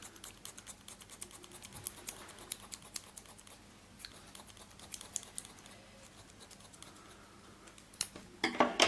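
Scissors snipping a paper feather, many quick small clicks in an uneven steady rhythm, quiet and close, with no talking.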